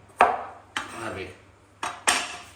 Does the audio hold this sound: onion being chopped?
yes